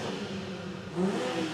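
A 2020 BMW M340i xDrive engine revs briefly, a close mechanical hum that swells into a louder rising burst partway through, with no voices.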